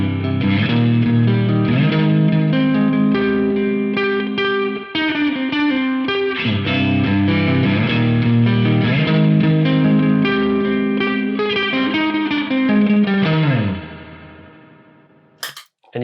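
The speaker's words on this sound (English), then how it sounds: "So if I turn on my delay and some reverb" Electric guitar run through delay and reverb pedals into an amp sim, playing a sustained melodic passage with echoing repeats and a lush wash that rings out and fades near the end; loud and alone, no talk.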